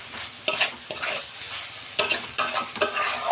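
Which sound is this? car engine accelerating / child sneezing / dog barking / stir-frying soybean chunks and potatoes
stir-frying soybean chunks and potatoes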